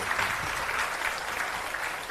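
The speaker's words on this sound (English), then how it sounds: "Ladies and gentlemen, a huge round of applause for, again," An audience applauds journalist Rajdeep Sardesai at a book launch event, a moderate, steady patter of many hands that eases slightly toward the end.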